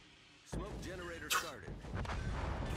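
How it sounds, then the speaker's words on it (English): A heavy naval gun salvo booms out in a World of Warships Legends battle, one sharp blast followed by a rumbling tail, with a player talking over the game sounds. "But the Dmitri Donskoi does fire at us."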